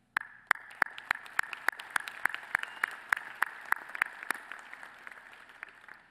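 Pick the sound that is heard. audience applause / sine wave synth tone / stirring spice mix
audience applause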